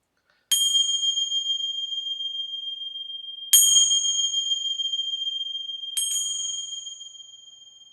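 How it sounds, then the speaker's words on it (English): Three clear bell strikes spaced a few seconds apart, each ringing out with a bright, sustained metallic tone that slowly fades; no voices. "I'm going to ring some bells here and connect"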